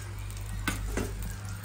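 Egg dosa frying in oil on a hot pan, a steady soft sizzle throughout with a couple of brief scraping stirs, close and quiet with no talk.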